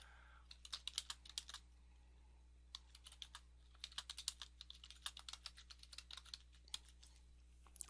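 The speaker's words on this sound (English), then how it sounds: "type in your site name, and then type in a description" Typing on a computer keyboard while entering a site name and description. Quick, close bursts of light key clicks come in several runs with short pauses between them, in a quiet room with no voices.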